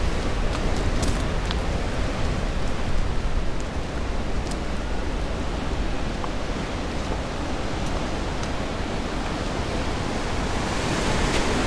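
Pacific Ocean waves heard from a large island lookout on La Roqueta, Acapulco: a dense, steady roar of distant surf and wind, continuous and loud throughout with no speech.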